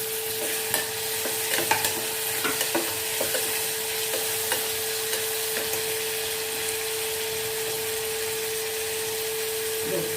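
Brinjal frying in a pan for a Tamil brinjal gravy, with a steady broadband sizzle throughout and scattered scraping stir strokes on top, close and even, with no talking.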